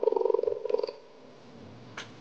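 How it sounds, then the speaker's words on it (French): A cheetah purrs, a low, rumbling purr with a steady rhythmic pulse, close and clear for the first second, then fading into quiet background noise with a brief soft rustle. "T'as vu comment il ronronne?"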